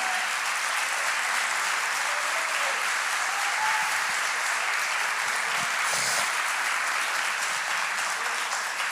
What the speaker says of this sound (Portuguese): Você pode dar um aplauso a Ele nessa manhã?